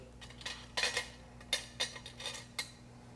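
A metal spoon clinks and scrapes against a bowl while scooping mustard, a few sharp, light taps and scrapes spread unevenly over about three seconds, close and quiet.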